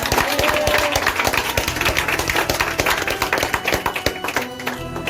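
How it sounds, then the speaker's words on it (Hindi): Audience applause and clapping at a school Independence Day program after a student's speech, loud and dense throughout, with a rhythmic clapping pattern before fading slightly at the end. "ओजस्वी जोशपूर्ण भाषण के लिए सालवी के लिए एक बार फिर से तालियां हो जाए"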